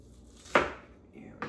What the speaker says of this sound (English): second onion, head to tail, and then just cut it in nice slices